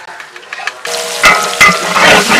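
Slit green chillies dropped onto onions in a hot pan on a wood-fired stove set off a sudden sizzle that keeps hissing and crackling steadily, with a few soft clinks before it.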